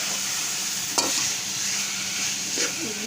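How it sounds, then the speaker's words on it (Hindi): Grated carrot for halwa roasts and is stirred in ghee in a pan: a continuous soft sizzle with a couple of brief scraping strokes from the spoon. "घी डालने के बाद तकरीबन लगभग आपने 5 मिनट इसको अच्छे से भून लेना है।"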